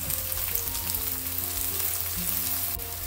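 Chopped onions and garlic frying in oil in a pan for brinjal thokku, a continuous close sizzle with occasional stirring sounds.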